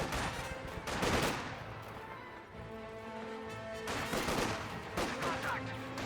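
Dense infantry gunfire rattles through a Company of Heroes 2 battle between Grenadiers and Soviet conscripts, sustained rifle and machine-gun volleys mixed with crashing impacts, steady and moderately loud.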